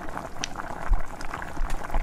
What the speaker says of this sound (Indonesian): Nah, ini sudah mendidih ya teman-teman